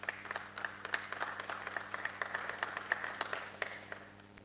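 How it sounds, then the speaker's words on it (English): Steady applause from an audience, many hands clapping at a moderate distance, continuing evenly for a few seconds with no voices. "Let's give them a round of applause, ladies and gentlemen, please"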